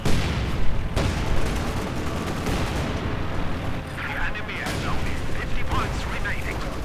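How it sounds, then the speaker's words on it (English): Heavy mortar shells firing in a Company of Heroes-style WWII strategy game, with dense battle noise of gunfire and booms throughout, several sharp reports standing out near and loud amid continuous combat and faint voice-like sounds. "heavy mortar continues to fire"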